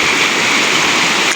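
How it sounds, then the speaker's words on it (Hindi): Floodwater surges through a village in Bihar after a single day of heavy rain, a loud, continuous broadband roar of rushing water like a stream or waterfall close by, steady throughout with no talk. "देखिए किस तरह बहाव है पानी का।"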